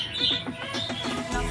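Budgerigars kept as pets, chirping and twittering in a quick, busy chatter at close range, with no voices over them.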